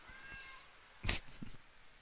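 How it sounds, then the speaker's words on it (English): A domestic cat meows close by: a faint, drawn-out call first, then a louder, sharper meow followed by a couple of brief softer ones. "My cat's wanting to talk."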